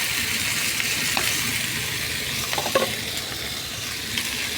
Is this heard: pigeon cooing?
no